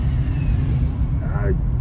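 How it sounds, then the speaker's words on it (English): Deep engine rumble and road noise fill the cabin of a 2003 Saturn L200 steadily while driving, with a short burst of a voice near the end. "I'm driving in this 2003 Saturn L200."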